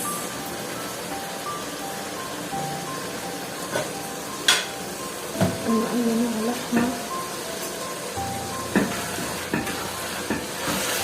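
Ground meat fries in a pan with a constant sizzling hiss while a utensil stirs and scrapes it, giving occasional sharp clinks and knocks against the pan, close and fairly loud, with no talking.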